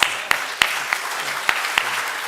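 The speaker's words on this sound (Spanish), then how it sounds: "Vamos a darle un aplauso para..." Applause from an audience at a planning and foresight congress, a sparse patter of claps with a few sharper, louder hand strikes standing out, fairly close.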